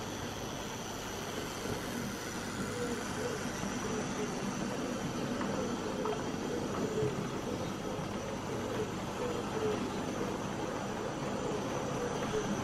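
A small tender-drive model of a BR Standard Class 9F 2-10-0 steam locomotive runs steadily with a continuous whirring, rattling rumble, evenly loud throughout with no voices.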